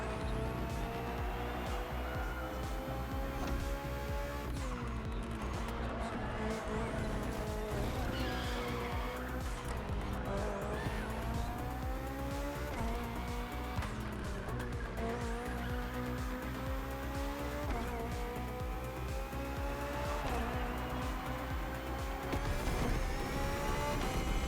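A BMW hybrid V8 race car in The Crew Motorfest howls through repeated rising gear pulls and sharp shift drops, with tires squealing through corners, loud and close throughout.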